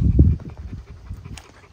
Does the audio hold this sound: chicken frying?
no